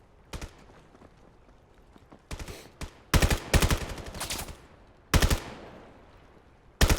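Gunshots in the Crest League 1v1 shooter game ring out in sharp bursts: a lone shot, a few scattered cracks, then a dense rapid volley, another burst and a final shot, loud and close with quiet gaps between.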